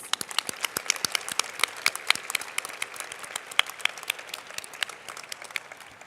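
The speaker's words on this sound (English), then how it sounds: "Can we still honor them today by giving them a round of applause?" Thin, scattered audience applause at an awards closing ceremony, individual sharp hand claps ringing out irregularly from a modest crowd at moderate distance, continuing evenly throughout.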